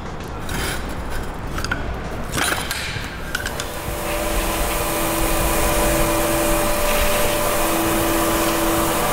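A vacuum cleaner droning nearby, its motor whine rising and settling into a steady high hum, with some clattering and scraping early on.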